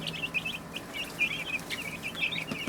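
Chickens in a coop, both feathered and featherless, give short repeated clucks and calls close by, steady and moderately quiet.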